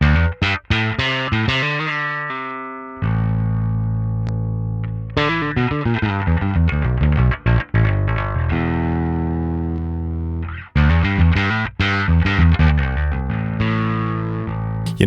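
Loud, resonant synth bass line from a DSM Humboldt Electronics Simplifier Bass Station with resonance turned up high, squelchy filter sweeps, playing rhythmic notes and sustained tones, slightly distorted, with no voices.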